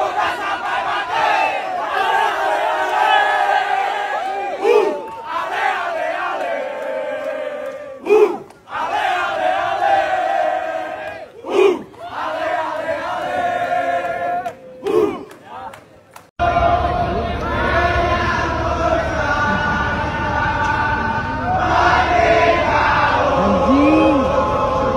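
Japanese football supporters singing an Indonesian song together in a stadium, a sustained mass chant that swells with crowd roars and cheering, loud and continuous throughout, with brief gaps before the singing carries on.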